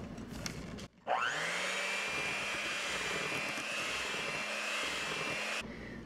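An electric mixer whirs into Milo cake batter on low speed, starting abruptly after a brief clunk, then holding a steady motor whine for several seconds before cutting off.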